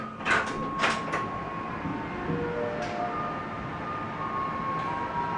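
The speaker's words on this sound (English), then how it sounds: "I know it sounds like an ice cream truck, but it's actually a garbage truck." A garbage truck plays a tinkling ice-cream-truck-style jingle at a distance, its thin tune drifting over traffic noise and a few brief clanks.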